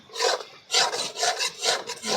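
A masala mixture with red chili and salt is stirred and roasted in a pan, giving repeated scraping, rasping strokes in a steady back-and-forth rhythm, close and fairly loud.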